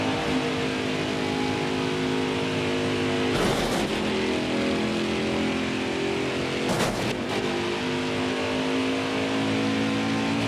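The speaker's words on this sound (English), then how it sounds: "Our truck doesn't even sound the same anymore." A race truck engine in NASCAR Heat 5 drones loud and steady for the whole stretch, with two brief harsh surges like shifts or revs, and no voices.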